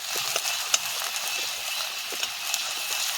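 Green chillies and ginger fry in oil in a pan for beef pickle, a steady soft sizzle with a few faint scrapes as the mixture is stirred, close and alone without talk.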